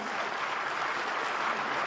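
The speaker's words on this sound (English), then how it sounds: "Please, the applause will be louder." Applause rolls through the audience at a university special congregation, a soft, distant wash of many hands clapping steadily without pause.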